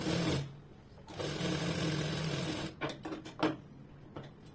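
A sewing machine stitches piping onto a blouse: a close, whirring run of stitching, a brief pause, a longer steady run, then a few short stop-start bursts at the end.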